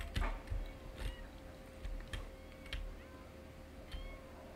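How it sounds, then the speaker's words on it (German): Cats meowing in The Sims 4, a series of short, soft mews and faint cries spaced through the clip over a low steady game hum and light ticking sounds, with no talking. "diese Katzen, die sind so niedlich, wie sie herumtoben"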